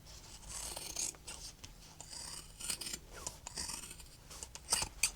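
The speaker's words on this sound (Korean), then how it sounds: "여기도 그리고 시접도 살짝만 더 잘라주세요" Scissors trim fabric seam allowance on a sewing project, producing soft, repeated snipping and rustling strokes at close range, quiet and unaccompanied by talk.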